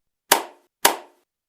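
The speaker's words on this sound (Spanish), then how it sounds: "Enrolló el papel nuevamente y aplaudió 2 veces." Two sharp hand claps, about half a second apart, each a crisp close slap with a short decaying tail, followed by silence.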